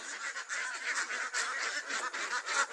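Ducks (itik) in their pen on a farm, a dense continuous flock chorus of honking, quacking calls close by, steady throughout without talk.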